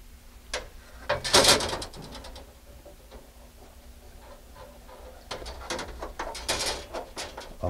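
Metal striker assembly being reinstalled on a drink vending machine (models 3501 and 3578): close clicks, ratcheting and clanks in two clusters, with quieter handling between them.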